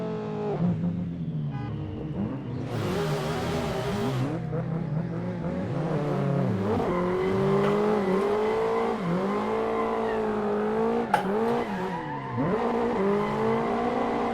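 A Tofaş car in a driving video game revs and accelerates around a roundabout. The engine note rises and falls steadily, with tire squeal and brief skids mixed into the continuous close motor drone.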